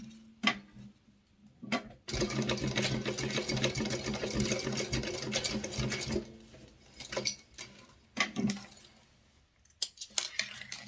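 A sewing machine stitches a fabric wallet in a close, steady rattling burst lasting about four seconds, with scattered handling clicks and knocks before and after.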